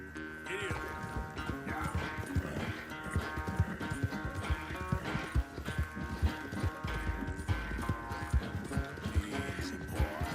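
Horse hooves galloping in the Red Dead Redemption 2 video game, a rapid steady clip-clop that runs the whole stretch over a dense bed of game music and ambience.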